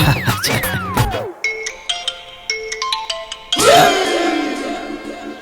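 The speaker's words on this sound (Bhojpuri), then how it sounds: "अरे ये फोन क्या कर बजाता? अरे वो दुल्हन के रिंगटोन।" A mobile phone ringtone plays loudly, a bright melodic tune with rising and falling synth notes, pausing briefly before starting again.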